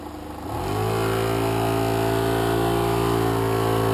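An electric motor spins up over about half a second, then holds a steady, loud hum with a clear rising-then-constant pitch.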